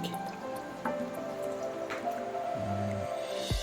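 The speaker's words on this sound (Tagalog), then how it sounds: "Ayan, lagyan na natin siya ng tubig." Water is poured into a pot of pork patatim with tomato sauce, giving a close, steady liquid splashing and dripping with a few small plops, and no talking.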